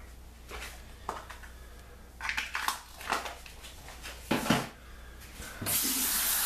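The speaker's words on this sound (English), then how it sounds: "Cold water rinse." Cold water running from a bathroom tap during a post-shave rinse, a steady hiss broken by uneven splashing bursts as hands or face pass through the stream, close and moderately loud with no talking.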